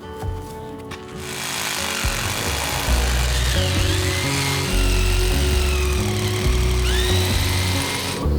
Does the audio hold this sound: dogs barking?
no